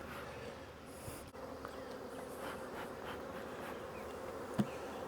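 Many honey bees buzz around a hive in a soft, continuous drone. The swarm hums steadily and faintly, with a brief louder buzz passing near the end.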